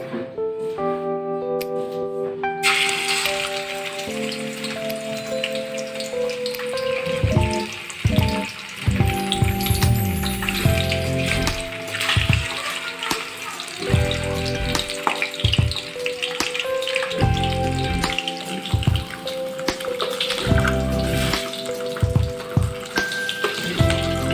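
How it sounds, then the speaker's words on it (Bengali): Rohu fish pieces fry in hot mustard oil in a wok, a dense close sizzle that swells and crackles over about twenty seconds with occasional clatter, under background music. "তেলটা গরম হয়ে গেছে, এবার আমি মাছগুলো আস্তে আস্তে দিয়ে দেবো"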